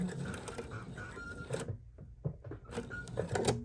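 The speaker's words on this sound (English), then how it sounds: "we're gonna sew up this side" A sewing machine stitches the side of a lined drawstring bag, its rapid mechanical whirring running close up, then pausing briefly before short bursts of stitching resume.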